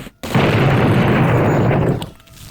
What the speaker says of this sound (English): take a shot at the fire extinguisher